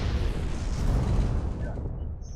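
A mech being destroyed by PPC hits in the MechWarrior Living Legends video game, heard as a loud, continuous rumbling explosion that swells and then slowly dies away, with no talk.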